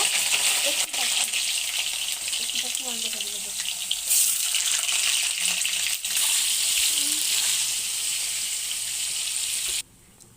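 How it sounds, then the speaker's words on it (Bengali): Cut potatoes frying in hot white oil in a pan, a loud continuous sizzle with bursts of hiss and occasional clinks of a utensil, ending abruptly. "একটু আলুটা ভেজে নিব।"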